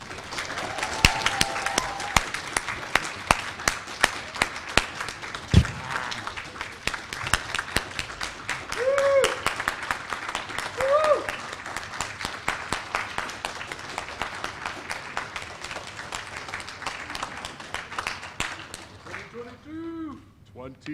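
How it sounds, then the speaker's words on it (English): A crowd at a college graduation ceremony claps and applauds steadily for about twenty seconds, a dense patter of many hands that thins out near the end. "let's give this group a big round of applause"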